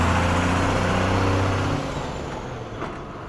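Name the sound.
Vijapur–Pimpri Chinchwad bus departing from bus stand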